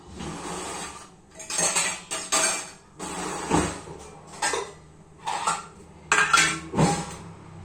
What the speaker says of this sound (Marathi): आणि आता हे पटापट चिरून घेतो. टमाटे तर त्याच्यात मेन राहते ना. टमाटे चिरतो.